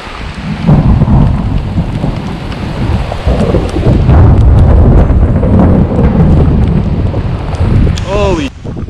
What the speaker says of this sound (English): There's some even more powerful rain and wind coming in right now.